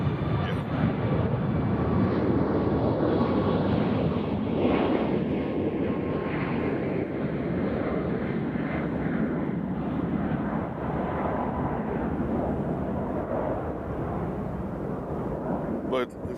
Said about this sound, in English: Let's watch another Southwest takeoff.